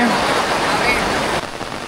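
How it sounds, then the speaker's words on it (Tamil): Heavy rain pours steadily in a dense, continuous hiss, loud and close, easing slightly near the end, with no clear voices over it. "என்ன மழை நிற்கவே இல்லை."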